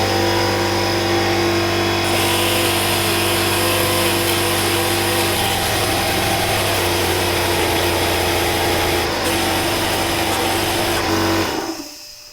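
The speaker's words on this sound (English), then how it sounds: "I'm just going to clean it up with this sanding disc" A loud, steady grinding whir from a sanding disc cleaning rubber off a metal driveshaft center support bearing from a 2003-2010 Porsche Cayenne runs continuously close by, then cuts off abruptly near the end.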